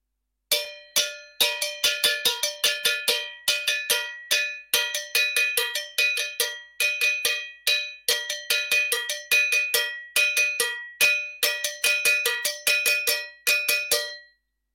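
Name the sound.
two cowbells playing interlocking salsa patterns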